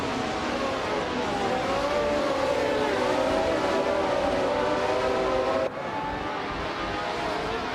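Race cars running in a race, their engines blending into one continuous droning whine that sweeps slowly in pitch, loud and unbroken until a sudden drop near the end.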